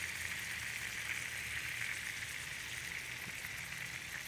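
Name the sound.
lamb chops bubbling in lemon butter in a pan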